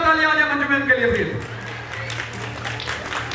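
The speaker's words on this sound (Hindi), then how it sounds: "एक बार जोरदार तालियां आ जाए मंजू मैम के लिए प्लीज" A crowd at a Indian stage show applauds as a guest of honor is called up, clapping rising under fading music and a voice, then continuing as a dense patter.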